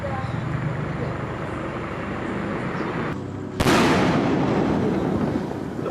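New Year fireworks and firecrackers in Kilinochchi, Sri Lanka, rumble through a dense outdoor crowd din, then a sudden louder burst of crackling and booms swells and keeps going.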